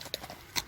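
Horse hooves clip-clopping near a riding arena, a couple of soft brief hoof knocks, close and faint, with no talk.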